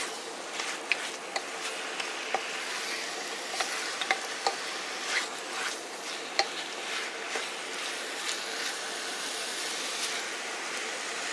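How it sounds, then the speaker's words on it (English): Curry paste is stirred into bamboo shoots in a hot pan for a chicken curry with noodles, giving a steady soft sizzle under repeated spatula scrapes and light taps against the pan. "And stir once more to get all of that paste into the bamboo shoot as well"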